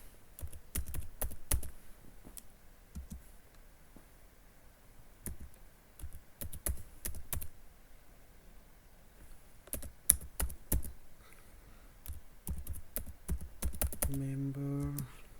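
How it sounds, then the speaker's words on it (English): Keys clatter on a computer keyboard as a command is typed, short irregular bursts of clicks with pauses between, fairly close and crisp, ending in a few faint tonal beeps. "I am again typing another command."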